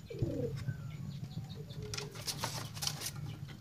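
Pigeons moving about inside a cardboard box, with soft cooing, wing flutters and scratchy pattering against the cardboard at close range, no talk.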